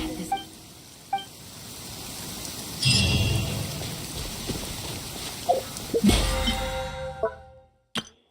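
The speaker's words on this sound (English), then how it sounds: "It's raining again?" Rain falling in the video game Genshin Impact, a soft steady patter with occasional clinks and brief louder splashes, fairly quiet throughout.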